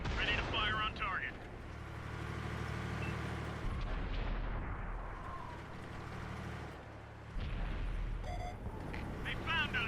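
An M26 Pershing tank's main gun firing in a war game, heavy low booms over a continuous rumbling engine drone, with radio-style crew voices heard over the din.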